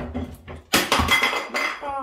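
Dishes and utensils clink and clatter sharply while beignet dough is being made in a home kitchen, a few bright knocks and scrapes close by, with speech around them.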